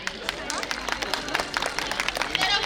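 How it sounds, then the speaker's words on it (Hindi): An audience at a school event claps and cheers in a dense burst of applause, loud and close, with crowd noise mixed in throughout. "इसके लिए जोरदार तालियां"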